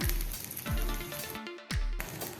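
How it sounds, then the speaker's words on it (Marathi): Wheat flour breakfast dough roasts crisp in a pan, a steady close sizzle of frying with a few sharp scraping bursts as it is moved, and no voices. "दोन्ही बाजूनी छान अगदी क्रिस्पी असं रोस्ट करूया"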